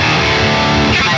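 Electric guitar played through a Bagram digital amp plugin with a crushing high-gain tone: a brief, loud, dense burst of distorted chords with no one speaking.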